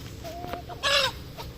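Chinese chicken in a backyard chicken coop giving a few soft clucks, then a louder, brief squawking call, close by with no talk.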